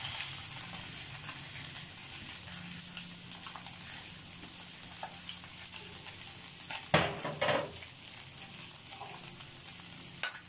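Cabbage and mixed vegetables cook in a pan with a low, steady sizzle, joined by a few scrapes and knocks of a utensil midway.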